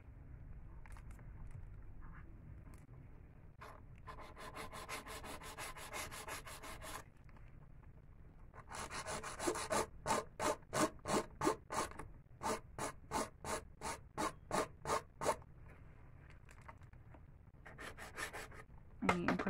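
Acrylic nails being filed to shape, a steady rasping rub that turns into a run of quick, evenly spaced back-and-forth strokes through the middle before easing off, close and fairly quiet, with no one talking.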